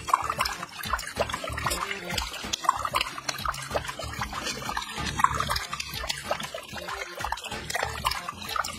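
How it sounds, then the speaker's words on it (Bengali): Water runs from a tap left open at a basin, sputtering and trickling unevenly among scattered knocks and small splashes, close and moderately loud. "এই তো জলের সাউন্ড আসছে, কলটা মনে হয় বন্ধ করতে কেউ ভুলে গেছি।"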